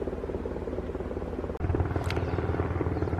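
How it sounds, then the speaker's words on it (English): A Coast Guard helicopter flies somewhere up a river near Sitka, Alaska, its steady rotor chop pulsing evenly in the distance with a brief knock partway through. "Got a helicopter up the river here. Coast Guard's out."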